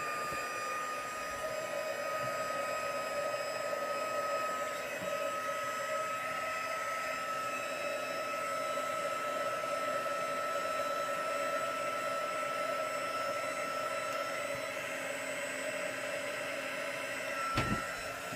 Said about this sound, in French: Et pistolet chauffant, c'est parti.